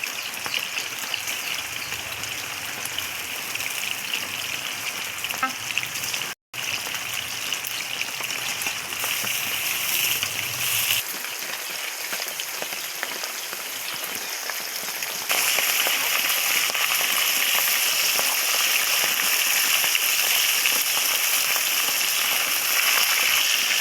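Fish fries in a pan of oil, a dense, continuous close-up hiss like heavy rain that carries on without speech and grows brighter and louder toward the end.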